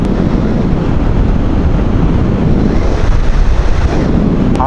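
Strong wind at a seaside rest area buffets the microphone in a loud, continuous roar, with a broad rushing noise and no letup, close and alone.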